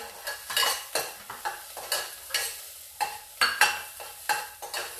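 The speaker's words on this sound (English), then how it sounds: "So just saute your onion and then follow with the garlic" Onions sautéing in a pan for a noodle dish, with repeated stirring scrapes and light sizzle in uneven bursts, close and moderately loud with no talking.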